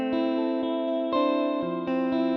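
A trap guitar pattern built in FL Studio 21, run through reverb and RC20 effects, plays sustained, shimmering chords that shift roughly every half second in a steady, looping progression.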